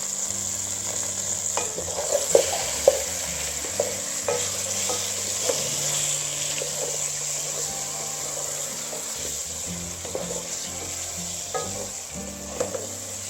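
Chicken pieces frying in a pan while being stirred, a steady sizzle with a high hiss and occasional scraping clinks of the spoon against the pan, no talking.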